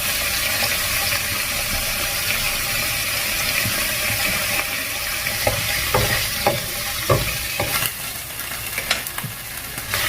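Instant stir-fry seasoning paste sizzles and frying in a pan, with a steady hiss throughout and a few soft clicks of stirring toward the end.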